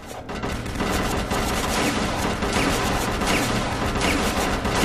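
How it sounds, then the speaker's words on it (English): Enemy gunfire in Doom 3 played in VR: a loud, continuous barrage of rapid shots blurring into a dense roar for several seconds, with no talking. "That's a lot of bullets coming my way."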